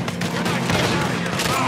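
Gunfire in the Red Dead Redemption 2 video game, a dense burst of overlapping shots rattling close and loud, blended with voices that talk through it.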